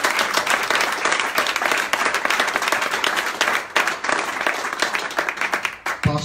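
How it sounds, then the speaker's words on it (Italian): Applause at a basketball club's press conference, loud close clapping from a roomful of people, continuous and dense with slight dips in intensity, ending more ragged near the close. "Quindi un applauso enorme per Mario Luzzo."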